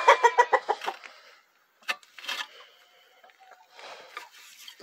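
Chickens clucking close by on a sheep and chicken ranch, a quick run of clucks at first, then a pause and scattered softer clucks and rustling.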